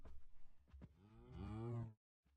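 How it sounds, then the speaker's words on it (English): A Minecraft cow lets out a single low, drawn-out moo that swells toward the end, close by, after some faint shuffling, then cuts off into silence. "Hello, cow."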